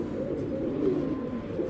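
A female racing pigeon at a pigeon sale gives faint, low cooing that blends into a soft, continuous murmur of birds nearby.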